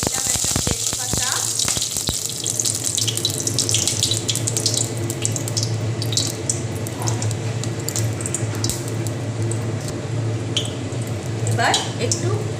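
Whole spices such as cardamom and a bay leaf hit hot oil in a wok, giving a steady, fairly loud sizzle and hiss that runs unbroken throughout, with a few brighter crackles near the start and end.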